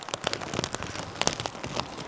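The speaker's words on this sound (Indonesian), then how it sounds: "Tapi ini hujan gede banget." Heavy rain on a mountain trail to Big Almaty Lake, Kazakhstan, patters in quick, uneven drops close by on a nearby surface. There is no talk over it.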